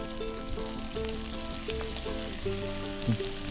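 Spinach frying in a pan for a paneer curry with tomato sauce, a steady close sizzle with crackling bursts and occasional stirring clinks throughout.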